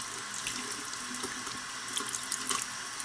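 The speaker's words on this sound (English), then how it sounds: "So I'm just going to rinse it again." Tap water runs steadily into a sink as a makeup brush is rinsed under it, a close continuous splashing hiss with small sputters and no talking.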